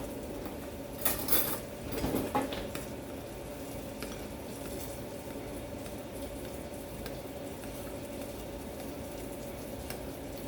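A honey miso glaze with Shaoxing wine is stirred in a bowl: a few quick clinks and scrapes of a utensil come early, then soft, faint stirring continues in a quiet kitchen.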